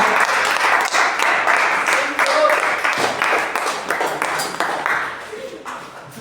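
A church congregation claps steadily in sustained applause, loud and close, with a voice speaking or calling out over the clapping.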